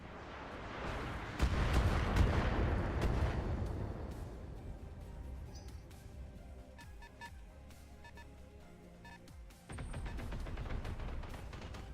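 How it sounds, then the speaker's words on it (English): Autocannon fire from a mech in the BattleTech video game: a loud burst of heavy booming shots early on, trailing off into rumbling impacts and scattered clanks, then another loud burst near the end. "Get drilled by the Irby's autocannon."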